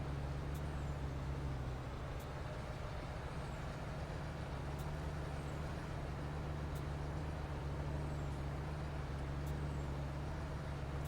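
Steady low diesel rumble of a tractor pulling a trailer in a backwoods driving video game, a constant drone with faint periodic high clicks, moderate and continuous, with no talk.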